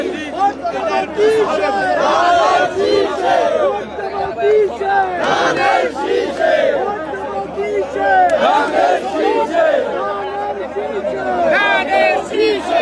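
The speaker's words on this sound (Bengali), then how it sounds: "এখানেও কিন্তু তারা স্লোগান দিচ্ছেন" Dense crowd of party workers at a political rally on a school field chanting slogans together while marching with banners, loud and continuous with overlapping voices and shouts throughout.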